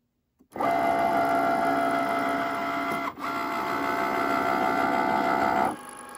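A Cricut Maker cutting machine cuts out a home decor sign, starting with a click and then running as a steady, close mechanical whir with a brief dip midway before stopping near the end.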